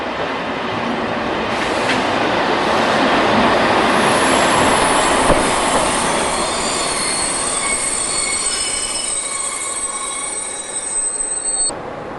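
An SNCF diesel railcar (autorail) rolls along rails near Lyon's Saint-Paul station with a loud, steady rumble, long high wheel squeals and rail clatter, fading slightly toward the end.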